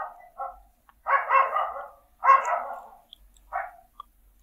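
A dog barks alone in four separate bursts, the middle two longer and louder, with brief quiet gaps between them and a faint yip at the end.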